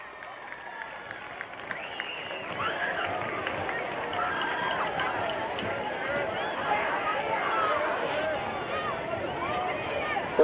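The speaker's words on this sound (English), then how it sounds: "how about one more big round of applause?" A high school football stadium crowd at a Sheyenne homecoming game applauding the homecoming court, sustained distant clapping and cheering that swells and holds for several seconds, with a voice talking over it.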